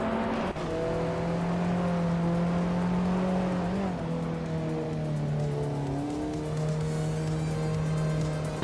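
A 1979 Puma GTE racing car's engine drones loudly and steadily, its pitch dipping and climbing through gear changes as it runs in a race, with no voices.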